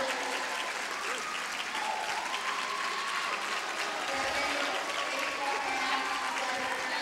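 Crowd at a high school swim meet bursts into sustained, dense applause and cheering after a dive, steady and loud throughout with voices mixed in.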